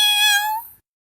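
A cat gives a single clear, close meow that fades out after under a second, followed by silence.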